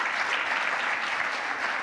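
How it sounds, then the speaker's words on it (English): Conference audience applauding sponsors at a developer summit, a dense, steady wash of clapping from a large crowd, heard alone without talk throughout. "Let's give a round of applause for our diamond sponsors."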